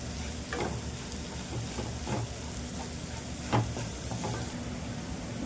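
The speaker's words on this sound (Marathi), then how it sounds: "आता आपण त्याच कढईमध्ये त्याच तुपामध्ये हे आपण किस टाकायचं आहे याचा रताळ्याचा" Grated sweet potato fries in ghee in a kadhai, giving a soft, continuous sizzle with occasional light scraping from stirring, fairly quiet and close, with no voices.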